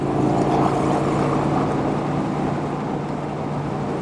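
A Vincent Rapide motorcycle engine drones steadily and loudly while riding, a continuous rumbling roar mixed with wind noise that eases slightly toward the end, with no talking.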